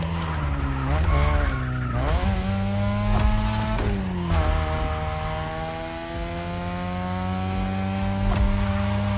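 A third-generation 2002 Mazda RX-7 with a rotary engine races in The Crew Motorfest, its high revving engine climbing and shifting through gears with tire squeal, loud and continuous throughout.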